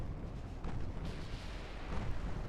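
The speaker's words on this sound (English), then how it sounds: "I just heard the big 14-incher start blasting." Battleship 14-inch guns fire in a naval battle in Ultimate Admiral Dreadnoughts, heard as a continuous low, rumbling barrage of overlapping booms with no distinct separate shots.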